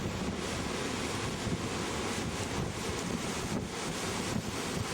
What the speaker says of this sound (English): And then we were back to another beach full of rolling waves